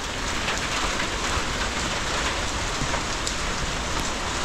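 Steady, dense rain pours down outdoors in a rural province setting, a continuous loud hiss filling the whole stretch without any voices.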